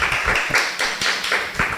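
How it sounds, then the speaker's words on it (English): Applause after a presentation: a few close, loud claps in a quick, fairly regular rhythm, sounding like a small group or a single person clapping near the microphone. "Let's give them a round of applause for a wonderful presentation"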